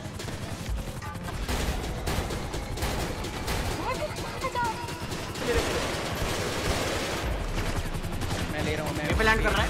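Rapid assault rifle fire in GTA 5 roleplay, a police shootout with LSPD, with dense overlapping bursts and shots continuing throughout under excited shouted talk from players.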